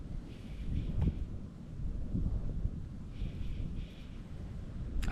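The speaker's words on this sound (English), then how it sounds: "That wind is fierce." Fierce wind buffeting outdoors during fly fishing, a continuous low roaring rush with gusty swells, heard alone and close against the microphone.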